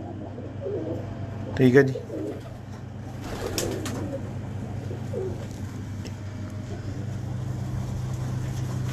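Pigeons coo softly in the background over a steady low hum, with a short loud burst near the start and someone talking briefly.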